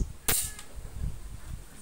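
One sharp, close crack of a Java Maddox air rifle shooting a slug in strong wind, then a short echo and steady low wind noise afterward.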